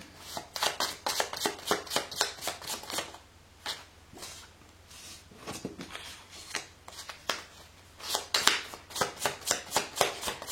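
Tarot cards are shuffled by hand in quick rhythmic riffling bursts, close and crisp, with a short uneven lull in the middle before the brisk shuffling resumes.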